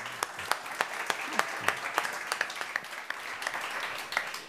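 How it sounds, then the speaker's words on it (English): An audience at the South Summit 2018 conference applauds the speakers on a stage, with scattered individual claps forming a light, moderately distant round of applause that thins toward the end. "please give a big round of applause to all of the speakers"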